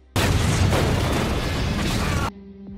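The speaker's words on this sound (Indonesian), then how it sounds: "USS melepaskan tembakan ke markas musuh" A sustained, heavy blast of naval gunfire and explosive booming from a warship in a film roars for about two seconds, then cuts off abruptly to quiet.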